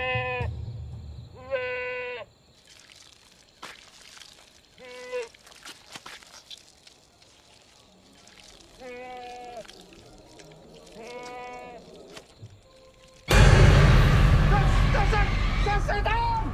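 Goats bleat repeatedly in a pen, several wavering calls spaced apart with quiet gaps between them. A sudden loud burst of noise cuts in near the end.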